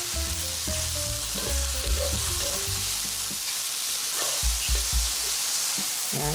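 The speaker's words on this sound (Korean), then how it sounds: "버섯에 수분이 빠져나오면 불을 강불로 해주세요. 그래서 바싹 볶아버리세요." King oyster mushrooms stir-frying on high heat in a pan, a loud steady sizzle with scraping and clattering of a spatula stirring throughout, no talking.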